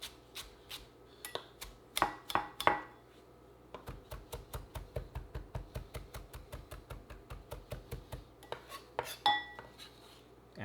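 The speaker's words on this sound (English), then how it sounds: "We're gonna take some cilantro or coriander. Give that a" A knife finely chops cilantro on a cutting board: a quick run of even, crisp taps in the middle, with scattered louder knocks before and after, close and clear.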